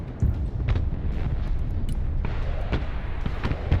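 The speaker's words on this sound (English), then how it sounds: "Like tanking all of these freaking airstrikes to the face" Airstrike explosions rumble in the video game Broken Arrow, with a dense, continuous low roar and scattered sharper bursts and pops throughout.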